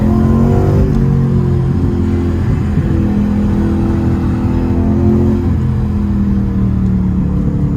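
A BMW 320d car engine revs and drones steadily up close, a deep rumbling hum that rises and falls slightly in pitch.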